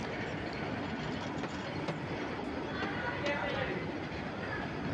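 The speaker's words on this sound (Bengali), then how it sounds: "খুব সুন্দর ট্রেনটি এগিয়ে যাচ্ছে ঢাকার দিকে।" A Bangladeshi passenger train heading toward Dhaka runs past at Paynakuji station with a continuous loud rumble and rattle of wheels on track, with voices faintly mixed in.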